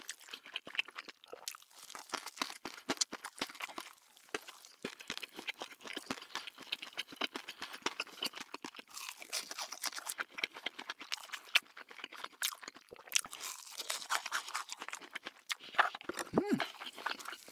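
Crunchy food is bitten and chewed close to the microphone in a dense run of crisp crackles and munching clicks, continuing throughout with short pauses.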